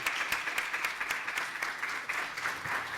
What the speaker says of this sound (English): I do want to ask a round of applause for them